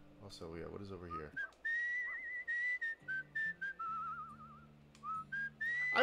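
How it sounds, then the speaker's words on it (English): A character in the video game Where the Water Tastes Like Wine whistles a wavering tune in short repeated phrases over soft background music, with occasional faint voices. "I wish I could whistle like that."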